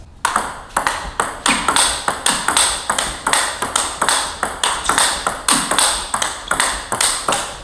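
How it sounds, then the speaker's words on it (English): Table tennis ball struck repeatedly on a Butterfly Jike Super ZLC carbon blade, a fast regular rally of sharp crisp pings, close and loud with no talk. "I can like feel that carbon hit, you know. You can hear the carbon."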